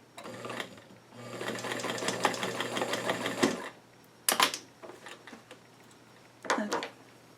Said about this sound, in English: now I just sew that on